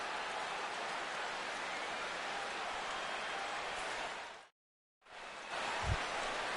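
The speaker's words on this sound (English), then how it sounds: "as the rain continues to fall here" Rain falls steadily on a baseball stadium as a soft, even hiss that drops out briefly, then returns with a low thump near the end.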